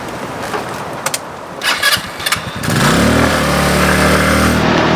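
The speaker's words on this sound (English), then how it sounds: "I'm gonna take the scooter and keep driving for a bit." A small scooter engine starts with a few sputters and clicks, then settles into a steady, close droning hum that holds to the end.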